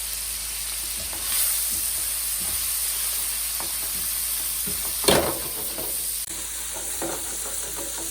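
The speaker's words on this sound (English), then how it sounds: "We'll stir this chicken on and off until it's just about cooked through" Chicken pieces for fried rice sizzle steadily in a hot pan while being stirred, with scraping and shuffling strokes over a constant frying hiss and one louder clatter midway.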